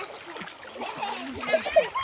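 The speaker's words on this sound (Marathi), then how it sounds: "इकडे बच्चे कंपनी आंघोळी करतायत मजा करतायत स्विमिंग पूल आहे" Children bathing in a rain-fed pool splash water in short, irregular bursts close by, with young voices chattering over the sloshing.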